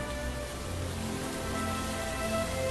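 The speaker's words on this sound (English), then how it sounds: "the pitter-patter of rain" Steady rain patters in a farming video game, a dense even hiss with a soft low hum of game sound beneath, constant and moderately loud throughout with no voices.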